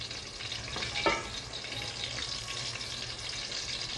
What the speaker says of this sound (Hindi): फ्राई पैन में सारे कोफ्ते फ्राई कर लीजिए।